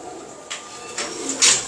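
Pet pigeons kept by fanciers in Wah Cantt, teddy pigeons, coo softly in a short burst with a few faint calls and brief higher chirps rising near the end over a quiet background.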